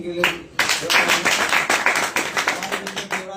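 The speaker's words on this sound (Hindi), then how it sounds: "इनके जोरदार ताली बजाएं" Audience members at a political welcome event clap vigorously in a steady, crowded patter, with a voice briefly heard at the start and faintly underneath the applause.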